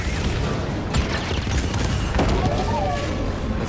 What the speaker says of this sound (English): So that fires the cannon.